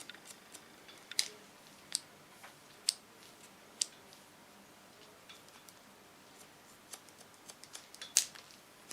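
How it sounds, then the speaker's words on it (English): Scissors snip through hair during a bob cut, a series of crisp, close, quiet clicks at irregular intervals with soft snips in between, with nothing else in the room. "I cut the line that lays on this"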